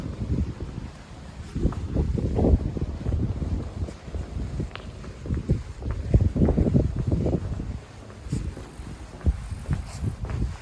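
Gusts of wind buffet the microphone in uneven, rumbling surges that rise and fall throughout, with no clear voices, at an abandoned Soviet-era site in Lithuania.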